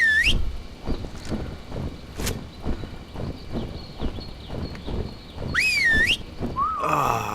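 In the video game Ark Survival Evolved, sharp rising whistle commands ring out in short bursts over rhythmic in-game footsteps and creature clatter, one near the start, one midway, and a wavering pair near the end.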